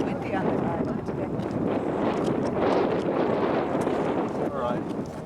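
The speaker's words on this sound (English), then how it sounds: "It's windy on the island today." Wind on a rocky island buffets the microphone in a steady, loud roar that never lets up, with muffled voices mixed in.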